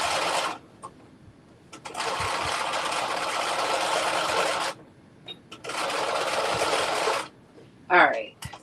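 A sewing machine stitching a 5/8 inch seam runs in three close bursts of steady buzzing whir, separated by short pauses, ending with a brief voice.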